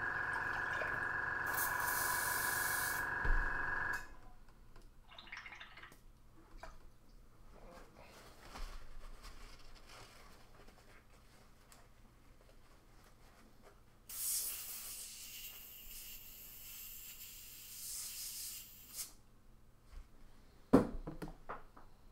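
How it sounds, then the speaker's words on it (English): Spray painting model leaves: two bursts of aerosol hiss, one near the start and another later, loud and sustained for a few seconds each, with quiet handling noises in between and no talk. "I just kind of want to spray them one colour then do the edges another"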